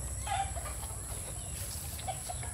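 Hens in a backyard flock clucking softly, with a few brief calls scattered over steady outdoor background noise and no talking.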